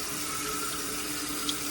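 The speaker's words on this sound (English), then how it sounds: "Now we need to add the water in it." Tap water runs steadily into a cooking pot holding unpeeled corn with husks, a continuous close hiss and splash with no talking.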